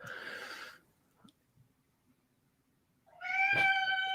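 A cat meows twice in a Rogue One film scene: one short meow at the start, then a louder, longer, drawn-out meow near the end, with near silence between.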